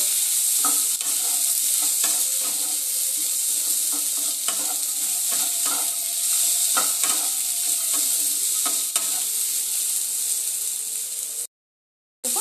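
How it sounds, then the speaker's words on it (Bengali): Spices fry in a hot pan for a chicken dish, giving a constant close sizzle while a spoon stirs and scrapes in repeated strokes, then the sound cuts out briefly at the end. "ভেজে নেব"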